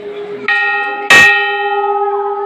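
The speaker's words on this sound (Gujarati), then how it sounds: "આ ઘંટ પણ આપણે વગાડીશું" Metal temple bell at a shrine is struck twice, each strike giving a bright clang with a long sustained ringing hum that decays slowly, loud and close.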